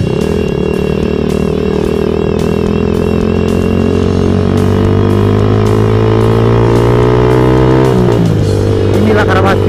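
Suzuki Satria FU motorcycle engine idling and revving steadily, loud and close throughout, with a strange dense buzzing tone and a slight dip in pitch near the end, amid a crowd of riders at a gathering.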